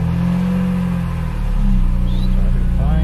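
A BMW E36 with a swapped-in S54 engine fires up and settles into a loud, steady idle rumble close by, the engine note swelling slightly midway with no talking over it.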